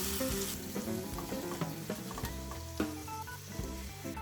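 Green beans sizzle steadily in a hot pan with clattering and scraping as they are stirred, close and continuous.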